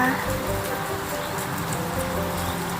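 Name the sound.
heavy rain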